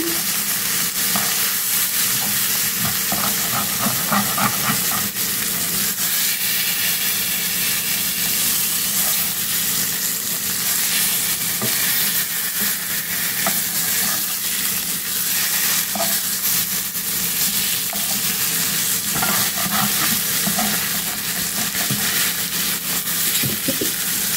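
Sankara fish frying in oil in a pan, a loud, dense, continuous crackling sizzle heard up close with occasional stirring clicks and no speech.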